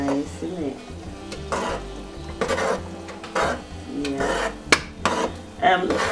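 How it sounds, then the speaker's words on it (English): A spoon stirs jollof rice in a cast iron pot, sending up repeated scraping and clanking strokes against the metal over a constant sizzle, close and fairly loud, with no one speaking. "Try avoid scratching the bottom of the pot when you're stirring"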